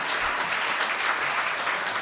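Steady, loud applause from the audience at a policy forum on rehabilitation for people with spinal cord injuries, a continuous wash of many hands clapping together without pause.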